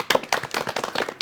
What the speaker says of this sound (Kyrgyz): Кол чаап коелу анда өзүбүзгө